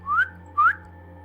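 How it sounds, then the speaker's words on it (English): A man whistles to call a dog, two short rising whistles in quick succession, clear and close with no talking. "He whistled, trying to figure out where the dog was."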